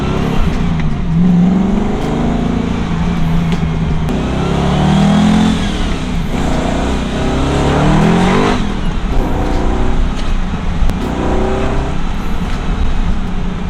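An LS V8-swapped Nissan 300ZX Z32 drives hard, its engine loud and close from inside the car, revving up through several rising pulls with brief dips between shifts.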